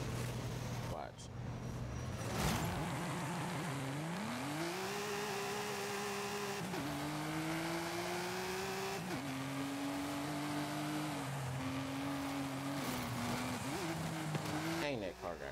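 A 2019 Aston Martin DBS Superleggera in Forza Horizon 5 races loudly, its engine rising through repeated gear changes with sharp upshift drops, climbing again after each, while someone talks over it.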